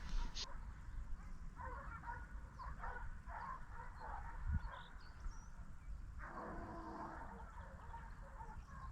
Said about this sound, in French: On peut encore une fois apprécier le travail des chiens et la musique.